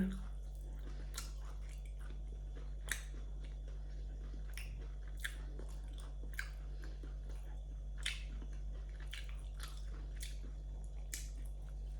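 Bread and bacon being chewed close up, soft moist bites with sharper crunchy clicks recurring every second or so over a steady low hum, no talk.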